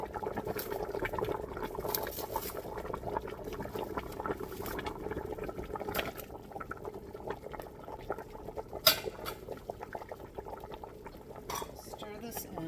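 Shrimp go into a pot of cooking vermicelli bean threads for a Philippine-style dinner with pork, giving soft bubbling, patter and scattered utensil clinks against the pot, with one sharper knock, close and low under quiet speech.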